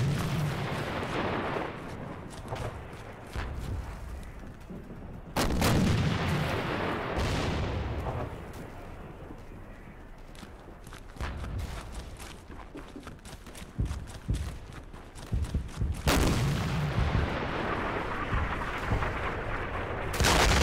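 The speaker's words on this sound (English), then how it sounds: "Request fire support on grid reference 5-0. Fire for effect." Artillery barrage from the WWII shooter Darkest Hour: Europe '44-'45, set at the Battle of the Bulge: a dense, continuous roar of distant and near explosions, with heavier blasts standing out around five and sixteen seconds, and no talking.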